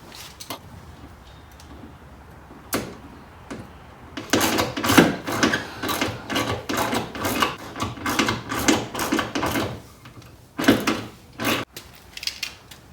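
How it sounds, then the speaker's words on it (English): A lag bolt is driven in by hand with a wrench, without power tools, while mounting a ChargePoint Level 2 charger. Repeated close ratcheting and scraping strokes come in steady bursts, with pauses between them. "we're just going to go ahead and put this lag bolt in with some muscle"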